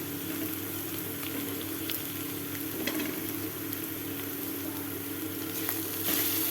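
Soybean and pea paste sautéing in a pan gives a low, steady frying sizzle with occasional faint stirring scrapes, under a constant background hum.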